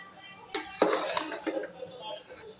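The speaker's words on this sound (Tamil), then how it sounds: "நொய்யை போட்ட உடனே நல்லா கலந்து விடணும்" Semolina upma is stirred in a cooking pot, a few sharp spoon scrapes and clatters against the metal followed by softer scraping, with a voice speaking through it.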